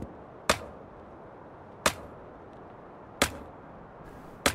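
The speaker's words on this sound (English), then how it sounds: "we just get a sound effect" Tree-chopping sound effect in a snowy video game, four sharp, isolated chops evenly spaced more than a second apart over quiet background hiss.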